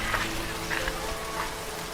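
Steady rain falls on an evening street outside a small roadside shop, a dense, even hiss of drops with faint patters throughout, close and continuous with no talk.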